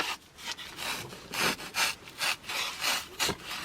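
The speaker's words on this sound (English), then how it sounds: "I'm just taking a serrated knife" A serrated knife sawing back and forth through a craft topiary piece, several rough rasping strokes in a quick uneven rhythm, close and moderately loud with no voices.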